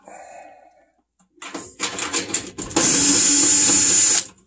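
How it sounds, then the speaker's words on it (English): Cordless power drill whirring briefly, then running steadily while backing screws out of a Carrier 58MCA furnace panel during blower motor removal, close and loud with short bursts before a sustained run. "Let me put the next larger bit on. Take these screws out."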